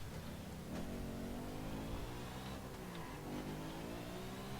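Car traffic in the driving game The Crew: continuous engine drone and revving from several passing vehicles, a moderately loud, dense wash of motor sound with no speech.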